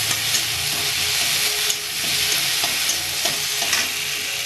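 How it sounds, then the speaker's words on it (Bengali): Garlic and green chili paste fries in hot oil with a steady, loud sizzle and hiss, broken by soft scraping stirs at intervals. "সেটা ভালো করে নেড়ে নেবো, একটু ভেজে নেব"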